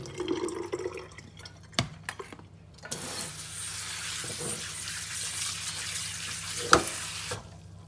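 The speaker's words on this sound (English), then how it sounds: "you're just putting cold water on it right now?" Cold tap water runs in a steady rush over vegetables in a sink for several seconds, with a few clinks and knocks of kitchen items before and after.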